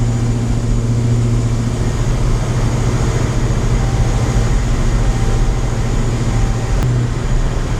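Supercharged built 392 HEMI RAM truck with a TorqStorm blower cruising around town, a steady low engine drone and road rumble continuous throughout, close and loud with no talking.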